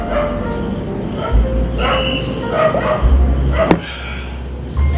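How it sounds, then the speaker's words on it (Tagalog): Dogs bark in short, scattered bursts at a moderate distance outdoors, mixed with a low rumbling background and a sharp squeal, heard on a night of drinking and conversation. "Ano mga aso yan?"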